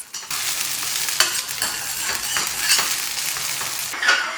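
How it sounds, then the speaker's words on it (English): Onions and green chilies sauté in a pan, giving a steady sizzle with scraping stirs, several sharp utensil clicks against the pan breaking through the crackle, close and fairly loud. "With the onions and the green chilies sauteed"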